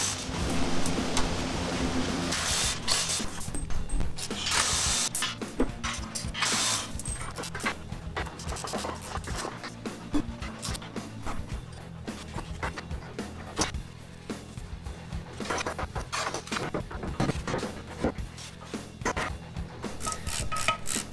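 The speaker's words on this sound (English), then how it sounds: "We're gonna go ahead and get the H-pipe unbolted." Tools unbolting the exhaust H-pipe beneath an SN95 or Fox Ford Mustang: irregular clanks, ratcheting clicks and metallic scrapes close by, in uneven bursts with brief pauses and no talk.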